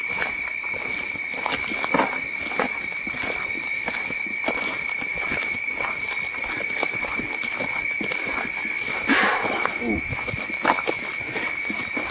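Footsteps crunch through the woods at night, irregular loud steps on leaf litter under a constant shrill chorus of insects, with voices talking.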